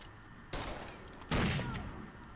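Gunfire in the video game Rainbow Six Vegas 2, two sharp bursts of shots less than a second apart over a low background rumble.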